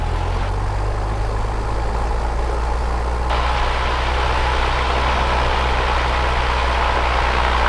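Cessna 172 piston engine revved to 1800 rpm during a run-up, a loud, steady close drone that swells slightly as the throttle comes up and then holds even.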